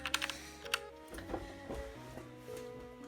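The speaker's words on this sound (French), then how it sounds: "c'est un clavier mécanique, quoi, je veux dire" Keys clack on a mechanical computer keyboard, a few quick light taps at the start, then sparse soft clicks amid a quiet room hum.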